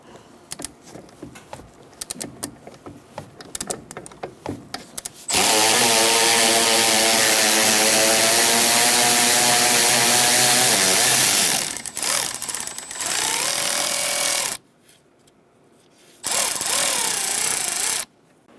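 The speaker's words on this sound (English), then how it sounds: "you can use a long socket with an extension and a ratchet or a battery-operated ratchet" A battery-operated ratchet removes nuts from the brake master cylinder of a Ford Ranger, giving a loud, steady motor whine that runs for several seconds, then cuts out and restarts in shorter bursts.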